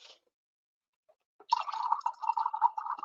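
Water poured into a glass of rum, a short dribble, a pause of silence, then a steady close trickling pour with a rising gurgle lasting about a second and a half.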